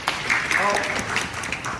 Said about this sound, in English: Can we clap hands?